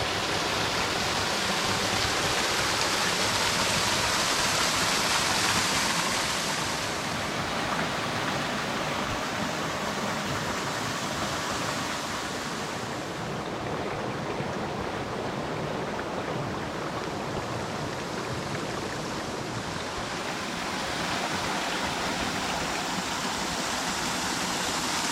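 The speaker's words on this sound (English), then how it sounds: "Obviously it's not a waterfall, but it looks like one, and that's what I'll call it, the old waterfall." Water pours over an old logging dam in a forest state park, a steady, broadband rushing roar that continues without a break throughout, with no voices.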